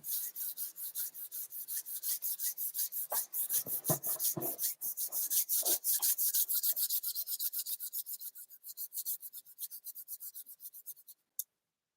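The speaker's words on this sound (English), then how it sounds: "Let's just rub our hands." A pair of hands rubs briskly together, a loud close rhythmic swishing of palm against palm in rapid even strokes that slows and fades before stopping with a single final tap.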